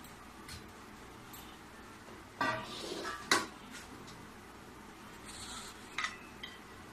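Semolina is scraped from a wok into a large vessel in a home kitchen, giving a few sharp metallic clinks and scraping bursts separated by quiet pauses.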